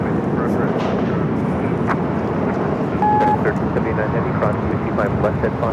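A jet airliner taking off from LAX runway 25 right, a broad, steady engine roar filling the clip while radio voices talk over it.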